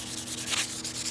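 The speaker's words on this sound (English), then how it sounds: "You want to polish it, take it to 600, 1200." An aluminum tail spring being sanded and polished gives a brief, close, steady rubbing hiss with slight stroke-to-stroke swells.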